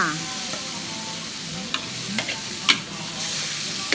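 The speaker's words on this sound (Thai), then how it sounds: "เสร็จแล้วผัดไก่เลยจ้า ผัดไก่ให้คลุกเขาเข้าเครื่อง" Chicken stir-fries with lemongrass curry paste in a hot pan, a continuous close sizzle broken by a few short spatula scrapes and clacks.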